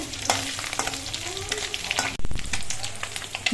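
Khoira fish frying in a pan as the pieces are flipped, a steady close sizzle broken by short scraping and clattering turns of the spatula, with no voices.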